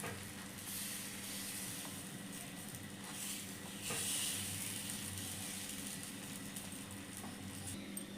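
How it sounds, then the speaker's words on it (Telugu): Mung bean pesarattu batter sizzles on a hot oiled pan, a steady close frying hiss with faint stirring and scraping sounds. "ఇప్పుడు మనం ఒక గరిట పిండిని తీసుకొని ఇలాగా మొత్తం చుట్టూ ప్యాన్కి అప్లై చేసుకోవాలి"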